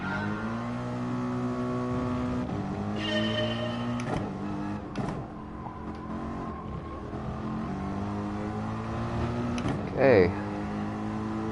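Mercedes AMG GT3 race car in GT Sport, its engine whining through rising gear pitches with shifts and brief gaps, a short loud burst near the end, while someone talks over it.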